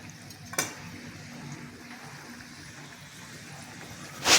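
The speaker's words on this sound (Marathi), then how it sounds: "आणि मग हे चांगले बदामी रंगावर खुसखुशीत तळून घ्यायचे." Shankarpali dough pieces deep frying in hot oil over a medium gas flame, giving a steady low bubbling sizzle throughout with a couple of brief louder crackles, no voices.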